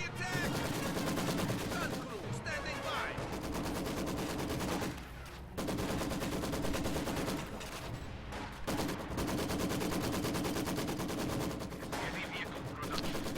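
Gunfire and sniper shots in a competitive online shooter match, with dense continuous shooting and blasts that fill the scene loudly, brief dips between bursts, and a voice commentating faintly underneath.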